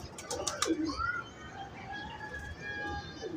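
Close pigeon coos and a few chirps rise from a Lahore rooftop loft, with a short flurry of sharp bird calls at the start and a steady low murmur behind.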